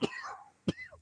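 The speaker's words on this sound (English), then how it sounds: "Pardon my cough." Two short, close coughs about half a second apart, each a quick burst followed by a raspy exhale.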